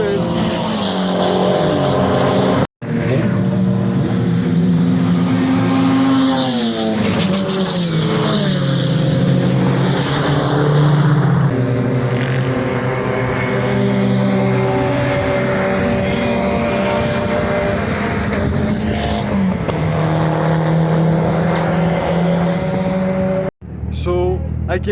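A high-revving Peugeot 205 GTI Turbo engine roars continuously, rising and falling through gear changes, loud and close, with a couple of brief cutoffs.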